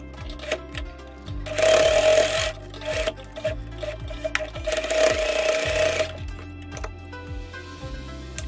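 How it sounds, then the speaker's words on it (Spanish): A sewing machine stitching a pet harness, loud whirring runs of stitching that stop and start, with rattling and rubbing of fabric between bursts. "Le pasan también la costura para poder cerrar."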